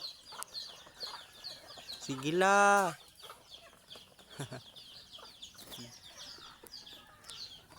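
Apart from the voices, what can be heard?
chickens clucking while being fed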